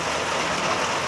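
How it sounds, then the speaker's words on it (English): Steady rain pouring down outdoors, a dense close hiss of drops hitting surfaces, continuous and fairly loud with no voices. "It's raining, it's raining"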